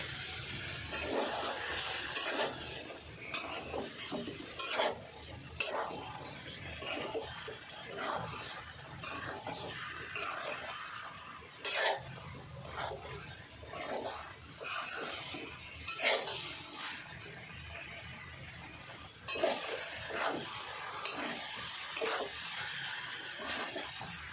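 Dum aloo ingredients get sautéed in a pan, with a sizzling undertone and repeated clinks and scrapes of a utensil against the metal, some sharp knocks standing out near and loud.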